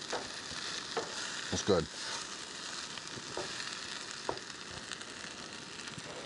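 Fried rice with steak, egg and onion sizzling in a pan at a campsite, a steady soft crackle with a few stirring scrapes, and a voice speaking briefly.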